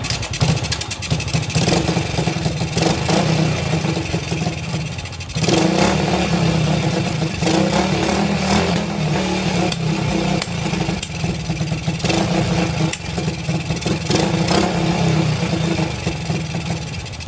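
A Honda XRM 110 motorcycle engine with an untuned carburetor runs steadily and close by, a rough mid-pitched drone with slight surges in revs throughout and no talking.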